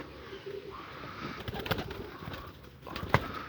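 Soft bird cooing comes through faintly against a noisy background, with a couple of louder clicks or bumps nearby.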